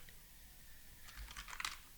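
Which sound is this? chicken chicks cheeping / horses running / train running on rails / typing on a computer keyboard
typing on a computer keyboard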